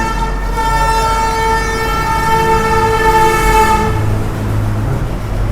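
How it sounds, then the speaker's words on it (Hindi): A loud, sustained vehicle horn blares for several seconds close by over a low engine rumble, then cuts off leaving traffic noise. "पूरा हॉर्न मारते हुए जा रहे हैं"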